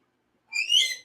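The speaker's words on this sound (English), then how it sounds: "You hear him whistling at me?" A person whistles a short rising tone, a brief bright whistle that swells and fades in about half a second after a moment of silence, with no talking around it.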